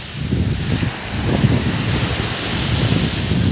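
Ocean waves at Chennai beach at night roll in as a loud, continuous wash of surf, with heavy low wind rumble buffeting the microphone and no voices.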